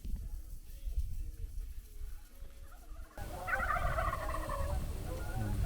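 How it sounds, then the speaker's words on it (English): Wild Merriam's turkeys gobbling from a roost tree out back at dusk, a rapid warbling gobble rising clearly over steady outdoor background noise, moderately distant. "the old turkeys are roosted right out back"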